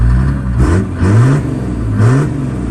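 A diesel engine idles close by and is revved briefly a few times, each rev rising and falling back to a rough, chugging idle.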